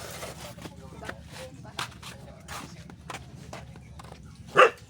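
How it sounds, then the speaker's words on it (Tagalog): A dog barks a few times amid outdoor background noise, with one louder, sharper bark near the end; voices are faintly present. "May aso."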